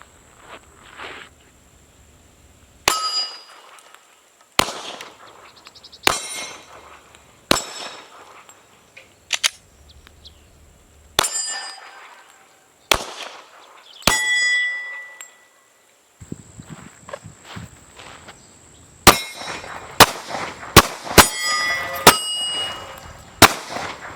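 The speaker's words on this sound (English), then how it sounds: "I'll be trying to hit the steel target." Bullets strike steel shooting targets set at short self-defense distances, giving sharp gunshots with bright ringing clangs in scattered single shots, then a rapid burst of hits near the end, with quiet pauses between them.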